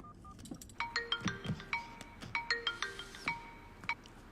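A quiet electronic ringtone plays a quick melody of bright beeping notes, repeating in two short bursts.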